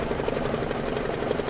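An embroidery machine stitches a tack-down through thick fabric for a table topper, a fast steady mechanical whir with rapid needle thumps, close and continuous.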